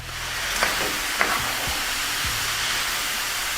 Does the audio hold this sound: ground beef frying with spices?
yes